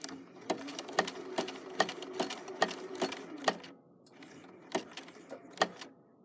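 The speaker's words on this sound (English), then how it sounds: "I'm going to back stitch to the edge of the rope and come forward" Sewing machine back-stitching along the edge of a coiled rope basket, running in rapid rhythmic bursts with regular needle thumps, then a brief pause and a few slower stitches, close and loud.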